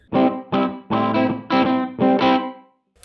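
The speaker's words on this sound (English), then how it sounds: "The room reverb, never been one of my all-time favorites, but it has a great kind of retro sound to it" An electric guitar played through the room reverb setting of a Donner Verb Square pedal, five or six strummed chords ringing out with a short retro ambience, close and loud before fading to silence.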